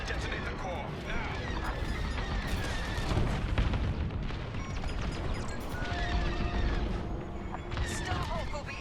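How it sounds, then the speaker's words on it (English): In the space-combat game Star Wars Squadrons, a core detonation rolls out as dense, rumbling booms and crashing blasts layered over continuous battle noise, with voices heard through the din. "Detonate the core, now!"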